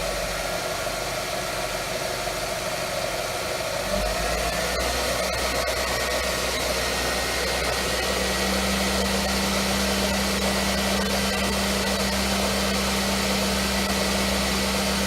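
Car engine running during an oil pressure test, revved up to around 3,000 RPM. A steady, close mechanical drone steps up in pitch and loudness partway through and then holds evenly at the higher speed with no talk.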